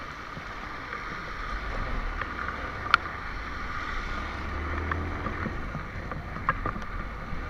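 A Honda MSX motorcycle riding through flood water in the rain makes a steady broadband rush of engine and splashing water with wind buffeting, continuous and close, with a few sharp knocks and no talking.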